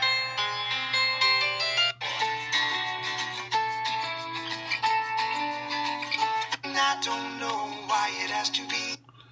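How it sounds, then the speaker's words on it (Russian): A Xiaomi Redmi 4 Pro phone plays a ringtone downloaded from an Indian website, a bright melodic electronic tune with sustained tones and shifting phrases, loud and clear with a low steady hum beneath. "Вот такой рингтончик."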